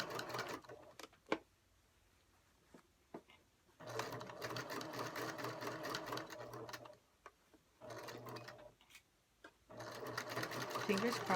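Sewing machine stitching a fabric basket in bursts of rapid, steady running with short pauses between, close and clear, a few clicks in the gaps.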